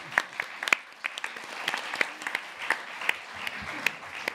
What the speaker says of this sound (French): Et là maintenant vous pouvez applaudir.